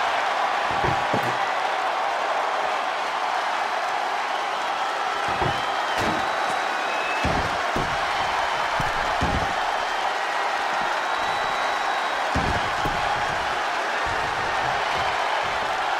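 A large arena crowd in the wrestling video game WWE 2K20 keeps up steady applause and cheering for the whole stretch, a dense continuous roar with occasional louder thumps.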